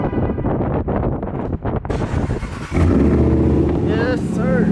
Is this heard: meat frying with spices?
no